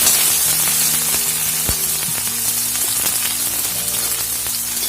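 Onions dropped into hot oil for mutton curry, a dense, steady crackling sizzle close up, with a sharp clack near the start and faint background hum, no voices.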